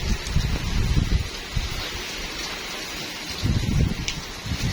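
Heavy rain pouring onto a balcony, a dense steady hiss of water with surges of louder splashing and dripping, fairly close and continuous with no talk.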